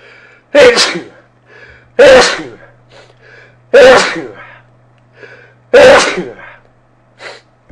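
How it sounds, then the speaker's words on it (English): Four loud sneezes come at roughly even intervals, each a sharp burst, close by, with quiet breathing between and a fainter fifth sound at the end. "Oh, sneezed."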